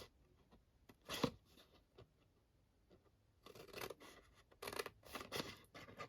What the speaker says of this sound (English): going to cut straight down on these ones as well